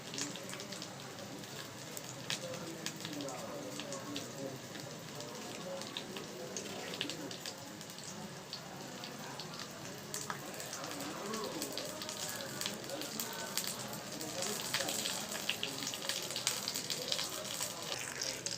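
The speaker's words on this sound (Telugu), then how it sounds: "అవి వేగుతూ ఉన్నాయి." Ingredients for dosakaya pachadi frying in oil in a pan, giving a soft, steady sizzle and crackle throughout, quiet and even with no other sounds standing out.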